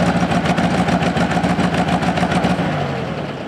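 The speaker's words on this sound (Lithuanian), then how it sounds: "aviatorius Juozas Romas Liekis demonstruoja 20 amžiaus vidurio vienintelį Lietuvoje ir vos keletą esančių pasaulyje Porsche traktorių" A rare mid-20th-century Porsche tractor engine runs steadily at close range, a dense mechanical drone with rapid firing pulses that holds loud and then eases slightly toward the end.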